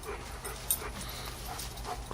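A German Shepherd dog pants and gives a soft whimper nearby, a faint steady breathing sound over low outdoor noise in a home orchard.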